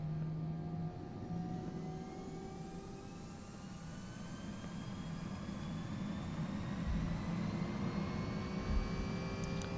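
A simulated Airbus A320 in X-Plane 11 spools up its jet engines for takeoff, a steady loud roar with rising whining tones that climb slowly in pitch over several seconds.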